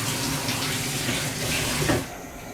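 Tap water runs steadily from a kitchen faucet as bay leaves are rinsed before cooking garbanzo beans, a broad continuous splash that cuts off abruptly near the end.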